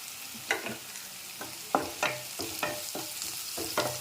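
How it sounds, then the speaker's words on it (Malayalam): Small onions, garlic and onions sauté for beetroot thoran, with a steady low sizzle broken by about eight crisp spoon-stirring scrapes against the pan, close and clear without any talk. "വഴറ്റി കൊടുക്കും വെളുത്തുള്ളി ചെറിയ ഉള്ളി വലിയ ഉള്ളി"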